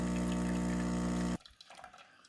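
A Mr. Coffee ECMP 1000 espresso machine pumping vinegar through to descale gives a steady, loud mechanical buzz that cuts off abruptly, leaving faint trickling and dripping afterward.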